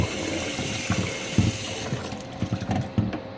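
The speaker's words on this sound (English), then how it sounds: "I'm using warm water to wash the rice." Water splashing and swishing in a bowl as rice grains are rubbed and stirred in warm water, with a steady running-water hiss that stops partway through.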